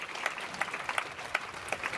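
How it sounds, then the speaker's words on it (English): An audience claps in brief applause, a dense patter of hand claps at moderate distance that continues steadily without voices. "Give her a round of applause."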